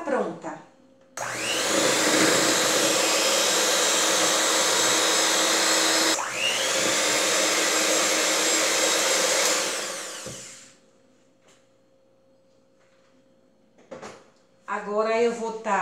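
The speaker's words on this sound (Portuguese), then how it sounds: "vou bater e vou voltar com a massa pronta." An electric mixer beats pineapple cake batter in a kitchen, two long loud whirring runs broken by a brief stop, then it switches off and a voice speaks.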